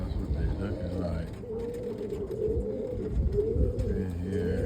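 Roller pigeons coo softly and repeatedly, kept indoors on a windy day, a low murmuring chorus close by with someone talking over it.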